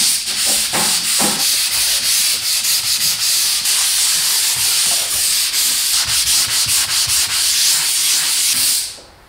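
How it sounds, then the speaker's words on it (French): A sanding mesh is drawn back and forth over a dried drywall joint on a partition wall, giving a loud, steady, close scratchy rasp of repeated strokes that runs without pause before stopping abruptly at the end. "Une fois que c'est sec, tu peux poncer. Le mieux est d'utiliser une grille de ponçage."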